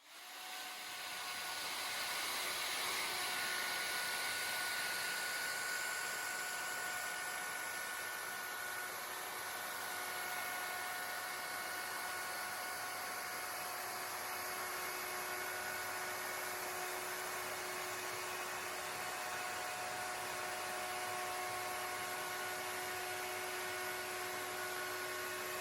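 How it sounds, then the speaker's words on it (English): A wood router cuts timber for bespoke stair gates in a joinery workshop, its high, steady whine running continuously and loud throughout with no talking. "Nice little bit of router action there for you"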